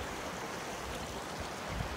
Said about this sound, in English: There's a cold stream here.